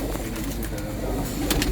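Pigeons coo faintly and repeatedly under a steady wash of background noise, low murmuring calls from birds kept for sale, heard fairly close.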